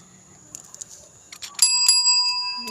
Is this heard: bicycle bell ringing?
yes